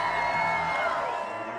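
Crowd at night at X Games Aspen cheering for snowboarder Scotty James after a SuperPipe run, a steady roar of voices and whoops with a voice talking over it.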